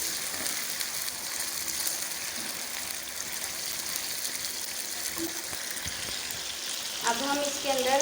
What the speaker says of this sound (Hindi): अच्छी तरह हमने चिकन को भून लिया है।